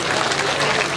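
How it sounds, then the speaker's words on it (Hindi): A brief burst of crowd applause welcomes a guest at a village Bhagwat katha gathering. The clapping is dense and steady for about a second. "एक बार जोरदार तालियां"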